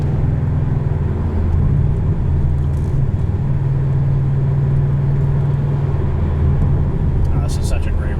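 A 2019 Porsche 718 Boxster S on a twisty road gives a continuous engine drone with road rumble, heard from inside the car, steady and moderately loud throughout.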